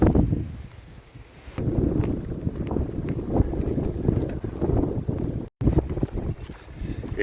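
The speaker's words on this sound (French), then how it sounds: "il y a des rafales très violentes qui ont tendance à me déséquilibrer" Violent wind gusts batter the microphone outdoors along a road, a loud, blustery roar that surges and eases in waves, with one brief dropout near the end.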